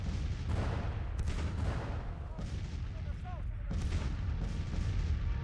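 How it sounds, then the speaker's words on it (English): Artillery cannons fire repeatedly in the Civil War strategy game Grand Tactician, with several heavy booms rolling over a dense, continuous battlefield din. "We are pounding away at the enemy cannons, so that's good."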